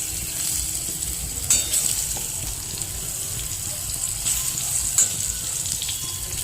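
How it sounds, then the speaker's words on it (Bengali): Eggplant pieces fry in a pan for fish curry, giving a steady close sizzle with occasional soft stirring clatters. "বেগুনগুলোকে একটু ভেজে নেবো"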